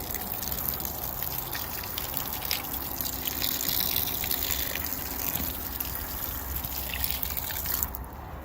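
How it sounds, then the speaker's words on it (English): Rainwater pours steadily from a container onto clay in a bucket, a continuous close gushing and splashing that runs for several seconds before abruptly stopping. "I'm going to add some water. This is the rainwater I've got piped into my swimming pool"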